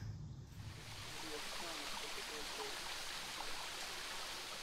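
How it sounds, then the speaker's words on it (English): A 50-foot waterfall at Bear Den Campground gives a faint, steady hiss of flowing water heard from a distance, with no break throughout. "we made it to the 50-foot waterfall"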